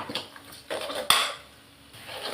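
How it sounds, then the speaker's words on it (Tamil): Metal scrapes and clinks against a pan in a few quick, irregular strokes, one sharp clank standing out, as a spoon stirs murungai keerai kulambu frying in oil close by. "இது நல்லா கிளறி விடுவோம், நல்லா வதங்கணும் எண்ணெயிலே"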